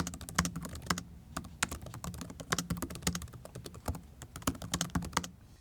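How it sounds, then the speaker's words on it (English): Steady typing on the keyboard of a ten-year-old Lenovo ThinkPad laptop, quick irregular key clicks up close with short pauses between bursts, no voices. "The keyboard on this thing is fantastic though."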